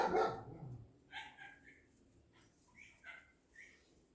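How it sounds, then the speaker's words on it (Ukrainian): A dog barks several times in the distance, short faint yaps spaced apart against a quiet outdoor background. "А, може це сусідський собака"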